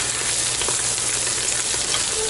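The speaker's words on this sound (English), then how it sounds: "See, it's starting to brown now. The onions and stuff and the mushrooms." Onions and mushrooms fry in a hot stainless steel pan, giving a dense, continuous sizzle with faint crackles and occasional stirring scrapes, close and steady throughout without talk.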